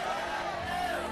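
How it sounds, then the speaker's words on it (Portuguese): A church congregation shouts and cheers together during a lively service, a dense, steady wall of crowd voices with no break. "Dá mais um grito, faz uma festa nesse lugar."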